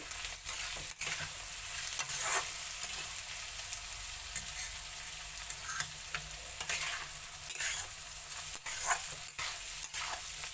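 Turmeric being stirred into ivy gourd and grated coconut as they fry in a pan, with a steady low sizzle under repeated scraping and stirring strokes, close up and continuous, no talking.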